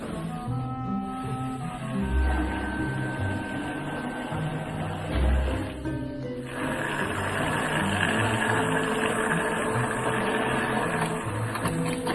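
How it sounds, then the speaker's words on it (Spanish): Eggs and blended pumpkin being beaten together in a kitchen, with a steady electric motor whir running continuously and close for about twelve seconds, with no talking. "Aos ovos poñémoslle a cabaza batida. E agora batímolo todo."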